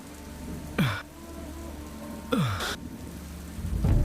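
Steady rain hisses down in the Sierra Nevada del Cocuy mountains of South America, a constant wash of falling water broken by two brief louder gusts of splashing, with a low rumble building at the end.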